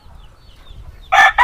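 Chickens on a Filipino game farm, with ducks nearby, give a loud burst of fowl calls near the end after a quiet, low farmyard background. The calls are close and brief.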